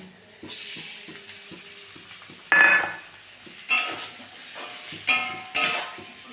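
Fried pointed gourd and potato pieces are stirred into sizzling onion and chili in a pan, with a soft frying hiss broken by several sharp scraping and clinking spatula strokes.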